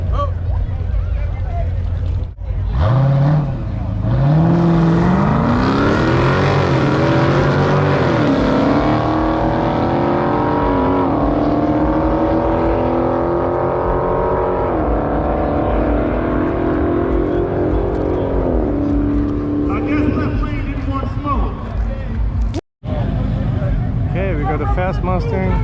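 A Ford Mustang and a Jeep Trackhawk drag racing: a loud engine roars and rises through repeated revving sweeps as the cars launch and accelerate, long and sustained, with crowd noise mixed underneath.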